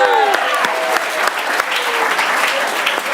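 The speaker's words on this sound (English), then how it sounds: "Everybody clap for our house" A crowd claps enthusiastically, dense steady applause with a few voices audible underneath.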